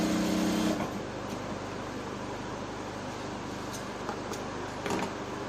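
A sewing machine stitches trouser fabric in a short burst, then quieter mechanical whirring and faint clicks continue at low volume.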